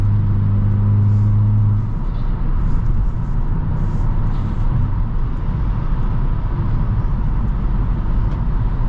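A 2023 Hyundai Kona N SUV drives along, its steady low engine and road rumble loud and continuous, with a brief deeper drone at the start and no talk over it.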